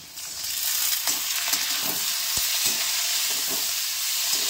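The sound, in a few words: onion and tomato frying in a pan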